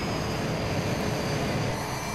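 Airplane engine in a flight simulator game, a continuous broadband roar holding steady at moderate volume for a couple of seconds, with no talk.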